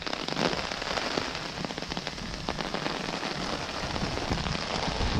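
Steady heavy rain pattering and crackling on a hard surface at a campsite, dense and continuous throughout with no voices.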